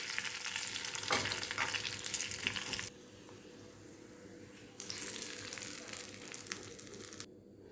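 Spices for the tempering of Telugu mudda pappu (mashed dal) hiss and sizzle steadily in hot oil in a pan. The close, continuous frying noise drops to a quieter simmer midway, then swells again before cutting off.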